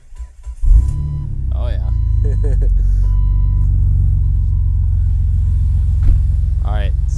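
A Jeep TJ engine cranks and fires at about 0.7 seconds, then settles into a loud, steady low rumble that continues to the end, with a short exclamation from a man over the idle.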